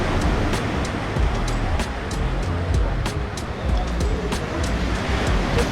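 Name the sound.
ocean waves at Dreamland Beach, Bali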